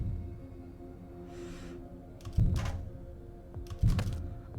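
Silenced automatic rifle fire in the video game Heat Signature, heard as two muffled thumping bursts a little over a second apart over a low steady hum, with a brief soft swish before them.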